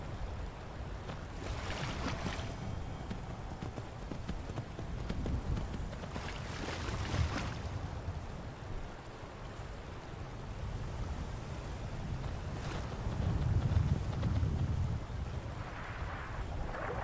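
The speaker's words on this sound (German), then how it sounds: "Einmal durch den Fluss ans andere Ufer" A Skyrim character wades across a river, steady rushing and splashing of water filling the scene with a continuous, moderately loud wash and occasional louder surges; no speech.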